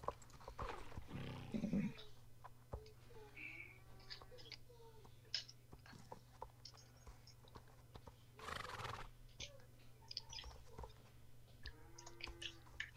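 A horse neighs loudly near the start, followed by faint hoof clip-clops and scattered animal and ambient sounds in a quiet setting, with no talking.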